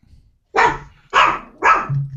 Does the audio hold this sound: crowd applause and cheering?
no